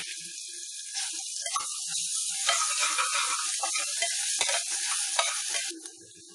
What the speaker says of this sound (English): Now add crushed ginger garlic paste.